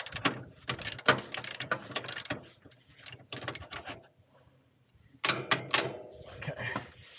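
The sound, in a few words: deep well socket wrench ratcheting on shock bolt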